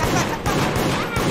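Gunfire in the multiplayer horror video game Deceit, a rapid fusillade of shots repeating in bursts across the moment, with players talking over it.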